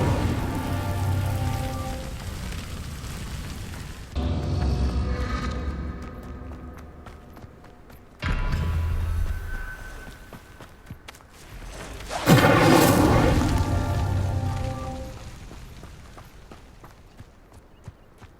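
Incendio fire spell cast in the video game Hogwarts Legacy: three loud, broad whooshing bursts of flame arrive a few seconds apart, each fading into a crackling, rain-like hiss, with no voices.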